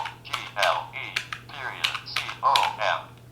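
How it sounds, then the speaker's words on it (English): Rapid keystrokes on a BT Speak Braille keyboard, a quick irregular run of close clicks, with a steady low hum and bursts of synthetic speech output mixed in. "let's type in www.google.com in grade 1 Braille."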